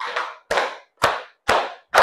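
A classroom of pupils claps together in a counted rhythm during an ice-breaking game, five sharp, evenly spaced group claps in a row, close and loud.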